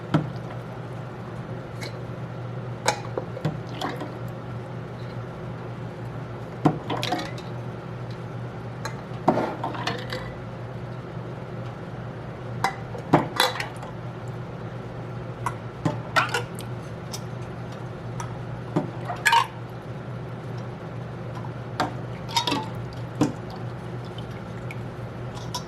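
Canning jar lids are handled one by one at close range, with sporadic metallic clinks and wet clatters over a low steady hum.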